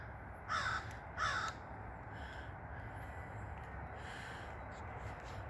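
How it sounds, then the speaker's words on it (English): A crow on a farm gives two loud, harsh caws close together, then quieter background birds and low rural ambience continue without speech. "Sounds like a crow crowing."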